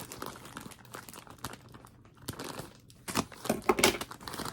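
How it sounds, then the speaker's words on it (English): A package holding pants is opened with care, giving close, soft crinkling and tearing of plastic wrap in irregular bursts that grow louder toward the end. "I want to be really careful opening this package because I don't want to cut anything on the inside"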